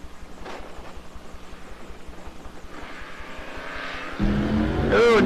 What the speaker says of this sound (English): Dick in the pick-em-up truck now is 1233. Earl over here in the Camaro picks a 1220 number